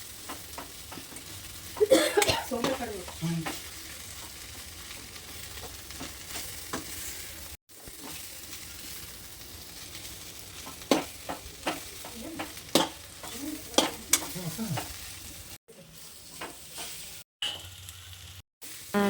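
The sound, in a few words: stirring gobi fried rice with coriander leaves in a pan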